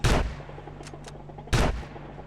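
Two loud gunshots in a GTA Online role-play game, sharp close cracks about a second and a half apart with faint clicks between them and no talk.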